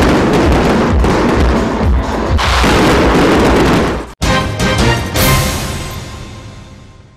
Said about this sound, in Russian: Завершился же вечер грандиозным салютом, который раскрасил небо над Актобе миллионами ярких огней.